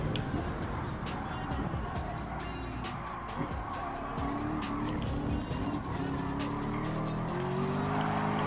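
Race car engines roar and tires squeal in Gran Turismo 7 during a close finish, with a sustained engine drone and rising pitch sweeps under a busy mix, fairly quiet overall.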